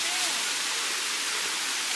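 Rushing water at a resort after rain, a steady, dense roar of flowing runoff close by, continuous and unbroken for the whole moment.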